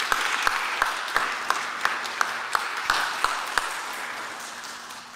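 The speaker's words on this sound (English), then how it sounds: "let us give a round of applause for these newly baptized into the church" A church congregation at a traditional worship service claps for the newly baptized, a moderate, fairly close patter of hands with a few distinct louder claps, fading slightly toward the end.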